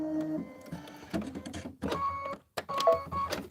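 An embroidery machine stitching a quilt block for a Kimberbell winter project chatters in short, choppy bursts with brief stops between them, moderately close and without talk.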